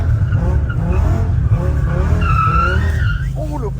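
Car tires skid and squeal as the front end slides, a sustained loud screech over steady engine rumble, with rising whines near the end and someone talking partway through.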